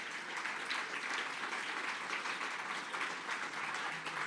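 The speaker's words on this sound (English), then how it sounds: "a round of applause" Audience applause at a conference main stage, an even, continuous wash of clapping from a crowd, heard from a distance and fairly faint, with no talking over it.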